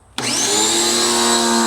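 A Ryobi 1.8 GPM pressure washer bursts into spraying after a near-silent start, with air still in the hose, then holds a loud, steady, close rushing hiss with a faint underlying whine.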